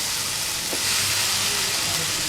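Bitter gourd bhaji with jaggery, salt and tamarind sizzling loudly in a pan as it is stir-fried, a continuous close hiss with soft stirring scrapes and no talk.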